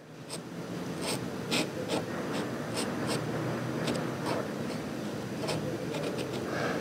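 A marker scratches out small tags on a haunted dollhouse model in close, rhythmic strokes and squeaky scribbles over a steady background hiss, with no one speaking.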